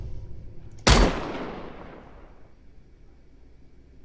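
A single sharp report from a PK machine gun in the shooter game Badlanders, loud and close, with a long reverberant tail fading over a few seconds. A brief spoken word comes just before it.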